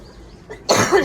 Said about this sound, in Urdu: اب مجھے کھانسی بہت زیادہ تنگ کر رہی ہے